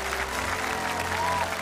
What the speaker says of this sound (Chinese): 掌声有请俊宇的爸爸妈妈